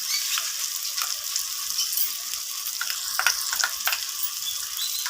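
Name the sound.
sautéing ginger paste with masala for chicken curry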